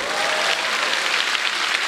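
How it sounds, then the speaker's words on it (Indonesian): Stand-up comedy audience applauding, a loud continuous wall of clapping from a large crowd filling the whole moment without a break. "Tepuk tangan dulu boleh dong."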